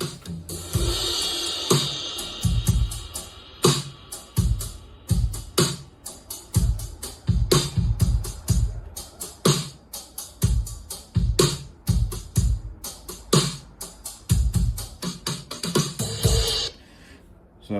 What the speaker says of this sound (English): just a basic drum track that had been mixed down from all the individual instruments into a basic